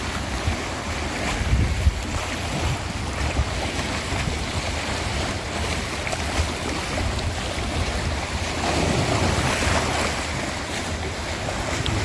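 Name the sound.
water rushing forcefully from Amaravathi dam power house outlet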